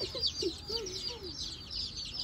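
Chicks, including a turkey chick, peep in a Tractor Supply store, a dense, steady chorus of high, rapid cheeps close by with a few lower chirps mixed in.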